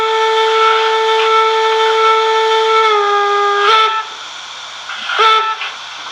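Loud steam whistle from a Märklin BR05 model steam locomotive's sound card: a sustained, bright multi-tone blast that dips slightly in pitch, then two short toots follow after a brief drop.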